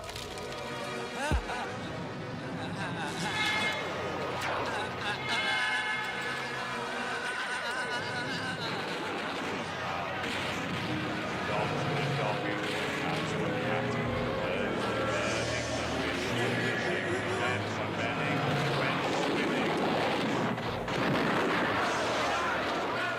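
A sound collage: a dense, chaotic wash of layered noise, crowd-like murmur, booms and distorted fragments, continuous and fairly loud throughout with no clear melody.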